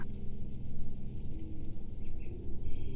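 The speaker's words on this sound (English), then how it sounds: "All you can hear are the birds and the gentle rustling of the leaves above you." Birdsong and the gentle rustle of leaves overhead in a quiet forest, heard as a steady soft wash of noise with scattered faint chirps and no talking.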